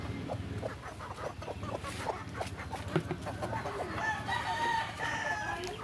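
Several chickens cluck and call around their feeding spot as they peck at ground corn feed, with a rooster crowing partway through, the calls scattered and close over steady outdoor background noise.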